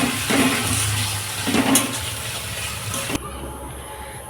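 Ginger, garlic and green chili masala paste sautéing in a pan, with a steady sizzle and occasional stirring scrapes, fairly close; the sizzle drops off abruptly near the end.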